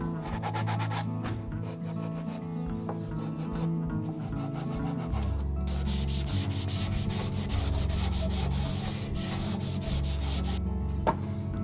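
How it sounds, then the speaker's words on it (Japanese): A carpenter hand-sands the narrow 1 cm end face of a wooden deck board with sandpaper, making close, steady rhythmic scrubbing strokes with no talking. "1センチのこの小口の面ですね、この面だけはやはりペーパーでこするのが楽ですね"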